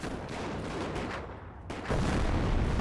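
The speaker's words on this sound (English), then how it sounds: "Incendiary Mortar connects right there." An incendiary mortar shell strikes in the Company of Heroes strategy game: dense crackling gunfire-like bursts give way to a sudden louder, sustained impact roar with no talk.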